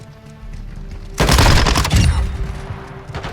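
A Minibak submachine gun fitted with a suppressor and scope fires in Call of Duty Modern Warfare 2, one loud rapid burst lasting under a second and then a fading tail, alone without talk.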